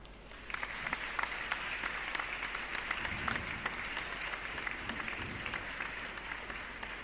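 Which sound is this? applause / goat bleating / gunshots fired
applause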